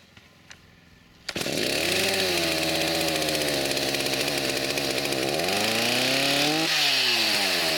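A Stihl MS290 chainsaw, just fitted with a rebuilt carburetor, is pulled and fires up after a couple of faint clicks, then runs loud and close, idling with rising and falling revs and a brief throttle blip near the end.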